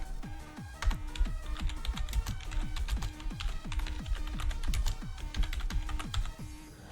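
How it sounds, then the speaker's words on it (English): Typing on a computer keyboard while setting up a live stream in OBS, rapid, close clicky keystrokes in a steady irregular patter throughout. "and then type your message"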